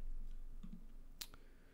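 One sharp computer mouse click lands on a button while a Facebook Messenger feature is added to a Wix website, followed by a fainter tick. It is close and brief over steady background hiss, with no speech.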